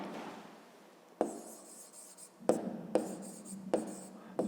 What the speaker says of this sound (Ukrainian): тепер записуємо відповідь